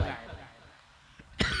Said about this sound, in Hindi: कुछ दिनों से थोड़ी सर्दी खांसी मुझे ज्यादा हो गई है, तो बीच बीच में आ जा रही है